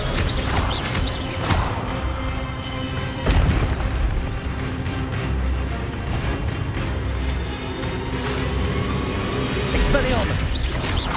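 Spell casting in the video game Hogwarts Legacy, the Expelliarmus spell thrown repeatedly during combat, with booming impacts and crackling magic bursts layered under constant loud shouted voices throughout.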